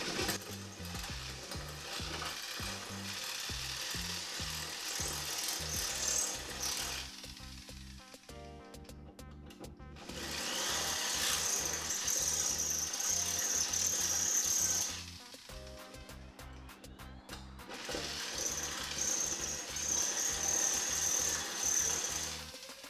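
A power drill enlarges rivet holes in a metal car hood, whirring steadily in bursts with short pauses between passes, close and fairly loud with no talk.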